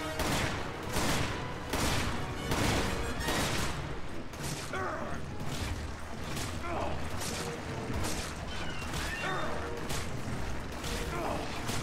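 Dense, rapid bursts of gunfire from a magnum in a video game, loud and continuous with overlapping shots, mechanical clicks and ratcheting, and a voice talking faintly underneath.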